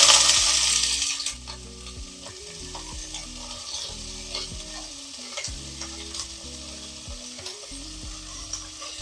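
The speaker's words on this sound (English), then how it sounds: "Yo, I got this pan hot. I just turned it down a little bit though. Anyways, go ahead and get the onions in there." Onions hit a hot, slightly turned-down pan for brisket chili: a loud burst of sizzle at first, then a quieter steady frying crackle with repeated stirring scrapes, no talking.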